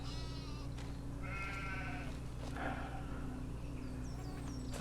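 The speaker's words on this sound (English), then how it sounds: "I hear some sheep." Sheep bleat faintly on a farm near a New Holland tractor, with a few wavering calls carrying over a steady low mechanical hum and no talking.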